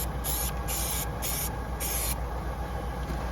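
A continuous loud, close aerosol hiss of stone chip coating being sprayed onto a rusty Nissan Micra K11 underbody, with short sharper pulses layered on a steady spray.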